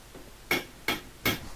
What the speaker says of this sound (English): And peen the rivet into shape.